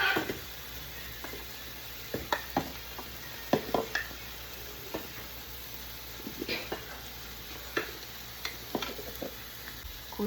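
Beef cutlet filling sautés in a pan on a slow stove, a steady low sizzle broken by frequent scraping stirs and light clinks of the spoon against the pan.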